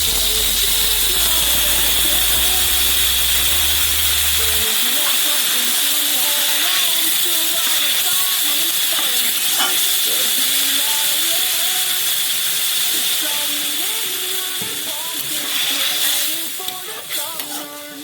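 Water poured into a hot pan of spiced kohlrabi and potatoes sets off a loud, steady steaming hiss and sizzle that holds for a long stretch before easing slightly toward the end, with a voice talking over it.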